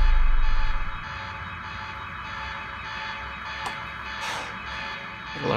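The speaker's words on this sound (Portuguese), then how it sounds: "O alarme não vai fazer a minha vida mais fácil." An alarm in the video game Quantum Break sounds steadily under game ambience after a louder opening thump, with a couple of brief bursts of noise later on.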